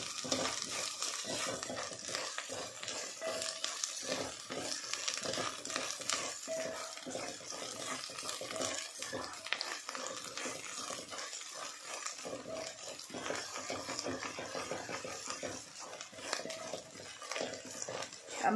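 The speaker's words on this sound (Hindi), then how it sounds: "हम मसालों को प्याज के साथ भूनेंगे" Turmeric, coriander powder and chili powder being fried with onions in a pan for dal makhani, a dense, steady sizzle broken by frequent scraping stirs, close and fairly quiet, with no voices.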